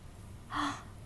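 A baby gives a single soft, breathy yawn, brief and close, in an otherwise quiet room.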